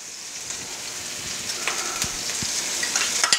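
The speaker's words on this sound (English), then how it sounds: "I'm going to just go ahead and sweat this onion and get it to where it starts to get translucent before I put the garlic in" Chopped onion sweats in melted butter in a pan for keto cauliflower rice. A steady soft sizzle runs throughout, with occasional pops and small scraping ticks near the pan.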